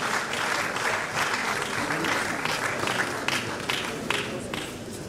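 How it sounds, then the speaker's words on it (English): A round of applause from an audience at a book launch event on science and technology, steady crowd clapping at moderate distance, sustained throughout with a few louder individual claps. "Please, a round of applause."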